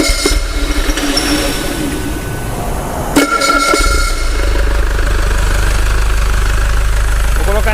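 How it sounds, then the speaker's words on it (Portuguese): A common rail diesel engine cranks briefly, then catches with a sharp burst and settles into a steady, rumbling idle, close and loud. "Vou dar partida de novo no motor."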